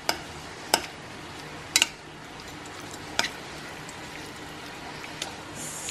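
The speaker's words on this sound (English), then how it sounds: "So I just drop a little piece in it, and I'm just gonna mix that around." A piece of butter stirred into cooked gnocchi in a pan: sparse, sharp spoon clicks against the pan over a faint low sizzle.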